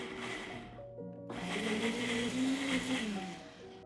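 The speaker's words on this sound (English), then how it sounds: "Into the blender they go." A blender roars close by, pausing briefly before restarting and grinding steadily cooked vegetables, its pitch shifting as the contents churn.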